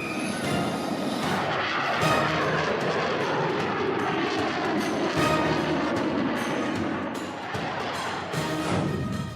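A Rafale fighter jet roars past with a loud, broadband engine rush that swells and holds, with a few sharp cracks and thumps mixed in, no voices.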